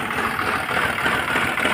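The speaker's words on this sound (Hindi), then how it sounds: "बहुत बुरी तरह इंजन धड़धड़ा रहा है ये" A Renault Triber engine with a rear-cylinder misfire and recent head work idles roughly, giving a continuous, uneven rumbling clatter heard close up and alone.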